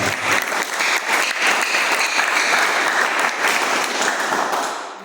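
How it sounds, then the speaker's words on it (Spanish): Loud, dense clapping from a church congregation rings out for about five seconds, steady and close, then tapers off at the end. "Dale fuerte palmas al Señor"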